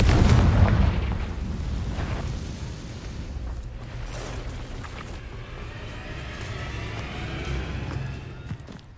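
A Confringo blasting spell from Hogwarts Legacy goes off with a heavy boom at the start, then rumbling debris and game effects trail off over several seconds.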